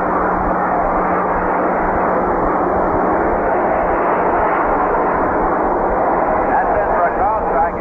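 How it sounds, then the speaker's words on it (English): A propeller or jet airplane passes low over Shea Stadium during a Padres at Mets baseball game, a continuous heavy engine roar on a narrow AM radio broadcast that swells slightly near the end, with an announcer talking over it. "asked him if the planes ever bothered him. One just flew over on that pitch."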